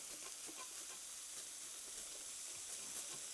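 Onions sizzle steadily in hot oil in a pan while sausage, cannellini and spinach cook, a continuous close hiss and crackle with no voices.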